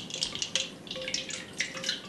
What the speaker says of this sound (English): Dip it in the ice water and squeeze it out a little bit.